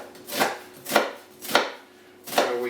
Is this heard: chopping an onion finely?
yes